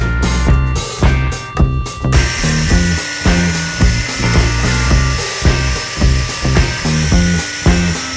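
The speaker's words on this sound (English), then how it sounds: "our first job was to grab an angle grinder and cut it off" An angle grinder cuts through a disc lock on a motorcycle, beginning with a few short bursts and then settling into a loud sustained whine that pulses in rhythmic surges as the blade bites the metal.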